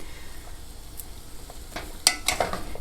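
A vegetarian meat substitute sizzles in a pan for chili, soft frying crackle under scattered scraping and chopping taps of a utensil against the pan, plus a sharper clink near the end.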